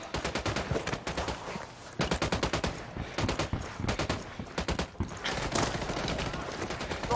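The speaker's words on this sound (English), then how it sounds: "Acabo de escuchar un tiro." Gunfire in the game Ghost Recon Wildlands: dense, rapid automatic bursts and fusillades, loud and continuous, with brief gaps between volleys, filling the whole stretch.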